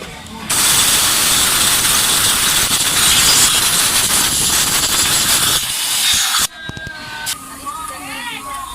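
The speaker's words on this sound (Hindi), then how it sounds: "इस साइड पे हवा" Compressed air blown into a Juki LK-1900B bartack sewing machine during repair: a loud, steady hiss lasting about six seconds that cuts off abruptly, followed by quieter handling sounds and a voice.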